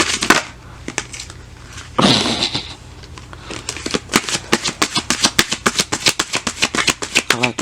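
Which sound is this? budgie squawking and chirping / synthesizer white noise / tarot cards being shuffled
tarot cards being shuffled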